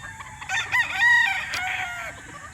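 A dirty dom gamefowl rooster crows once nearby, a clear rising and falling cock-a-doodle-doo over low background noise with no talking.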